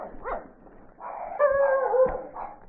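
A dog barks and yelps nearby on a street in Baguio City, a few short harmonic calls with a whining tone, loud and close with no talk over them.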